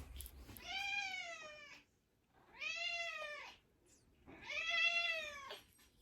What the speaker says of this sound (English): When you hear her meowing in my videos